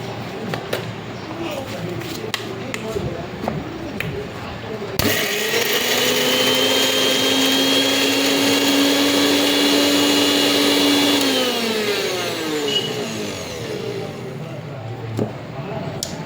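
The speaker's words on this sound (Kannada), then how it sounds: "ಸೊ ಇದಕ್ಕೊಂದು ಸ್ವಲ್ಪ ಮಿಕ್ಸಿ ಮಾಡ್ತೀನಿ." A kitchen mixer grinder blends chopped rajgira (amaranth) greens in one loud, steady whir lasting about six seconds, with its pitch rising as it spins up and dropping as it winds down, framed by quieter kitchen noise before and after.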